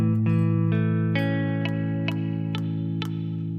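An electric guitar plays a poorly fretted barre chord, sustained under a series of sharp, muted string clicks and buzzy plucks that recur about every half second, sounding choked and unclear rather than ringing cleanly.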